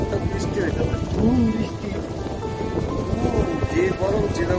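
Heavy monsoon rain pours down in the Sundarbans with thunder rumbling, a dense continuous wash of rainfall with low rolling booms, and people talk over it.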